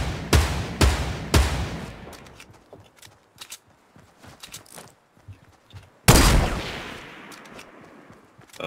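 A grenade launcher in the Fortnite video game fires three loud, booming shots in quick succession. Scattered clatter follows, then one heavy blast with a rumbling decay.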